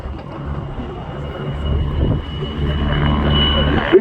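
A synchronized pair of Czech PZL W-3 Sokol helicopters performing an air display at RIAT 2025, giving a steady, fairly loud rotor and turbine drone that swells slightly toward the end.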